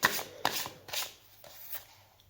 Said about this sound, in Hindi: Let's shuffle your cards real quick.